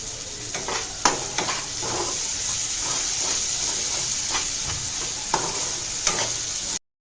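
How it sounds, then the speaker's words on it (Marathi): Spice paste sautéing in oil in a pan, a continuous close sizzle with frequent scraping and tapping strokes of a stirring spoon, no talk. "मसाला चांगला तेलामध्ये परतून घ्यायचा म्हणजे त्याचा कच्चापणा गेला पाहिजे"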